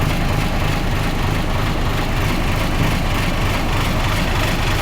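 A Fuso 8DC9 engine runs after a starter repair, with a loud, unbroken drone that holds level from start to finish. No one speaks.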